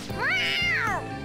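A cat in the video game Persona 5 gives one clear, drawn-out meow that rises and falls in pitch, loud and close over faint background game ambience.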